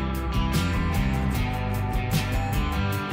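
A 90s-style grunge rock track with bass and drums playing from the start, loud and dense with a steady rhythmic beat and sustained distorted tones.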